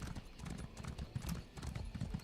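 A horse's hooves clip-clop in a quick, even rhythm in The Elder Scrolls Online, with a brief neigh, all heard at low volume.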